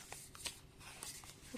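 Tarot cards being shuffled by hand during a card reading, a soft papery riffling with a few brief flicks, faint and close.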